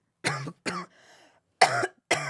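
Four sharp coughs in two pairs, with a short rasping breath between them, close and loud with no talking.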